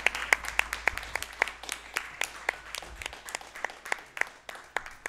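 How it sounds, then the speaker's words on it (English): Scattered clapping from a small group, individual claps sharp and distinct in an uneven rhythm, steady for a few seconds. "let's give him one more round of applause"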